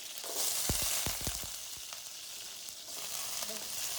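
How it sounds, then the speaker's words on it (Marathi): Potatoes with cumin and curry leaves fry in oil in a pan for sabudana khichdi, a steady sizzle broken by a quick series of sharp spatula clacks as they are stirred. "परतून घेऊया।"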